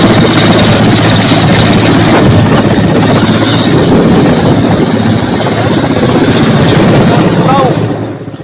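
An Indian military helicopter carrying Garud commandos on a rescue mission to cyclone-hit Sri Lanka, its loud, steady rotor chop and engine whine filling the whole stretch before easing slightly at the end, with a voice faintly audible underneath.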